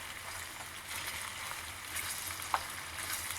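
Food fries in a full pan over a campfire cooking setup, a soft continuous sizzle with occasional scraping stirs and one brief clink of a utensil, no talk.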